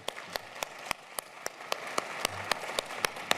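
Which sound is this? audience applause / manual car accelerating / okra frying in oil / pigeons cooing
audience applause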